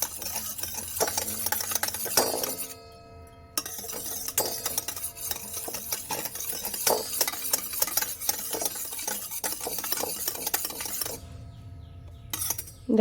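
Milk and lemon juice being stirred together in a bowl while making a cake, a steady scraping and clinking of a spoon against the bowl that runs almost without a break, with a short pause near the start.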